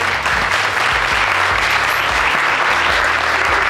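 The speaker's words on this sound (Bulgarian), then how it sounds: "Крис, да, аплодисменти за Крис" A crowd applauds steadily, a dense, even patter of many hands clapping close by throughout.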